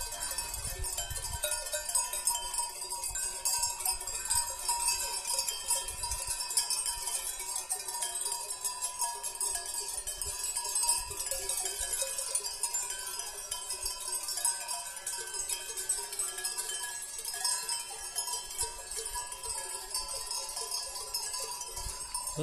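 Cowbells on grazing cattle in the Carpathian mountains jingle continuously, many bells clanking at uneven intervals, moderately distant and steady for the whole stretch, with no voices.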